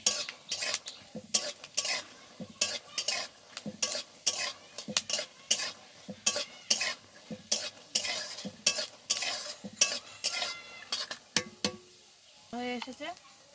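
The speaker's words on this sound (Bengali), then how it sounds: "দেখো বাদাম ভাজার সময় কেমন বাদামগুলো কেটে ফাটছে" Peanuts frying in a pan for crispy flattened-rice chire bhaja, heard as a rapid series of sharp pops and crackles with scraping stirring over a low sizzle, close and fairly loud, ending with a short gap and a few softer sounds.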